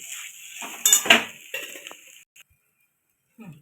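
Okra bhaji (Jain-style Maharashtrian bhendi) stirred in a metal pan, giving a few close, clattering scrapes and clinks of a spoon against the pan that fade into silence.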